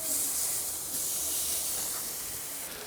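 Beef tenderloin steaks set beside lamb back on a fresh charcoal grill sizzle with a steady, close, hissing crackle that continues without talk.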